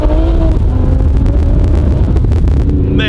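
Lamborghini Evo driving on a back road, with a loud low engine rumble and heavy road and wind roar from inside the cabin, the engine note shifting slightly throughout.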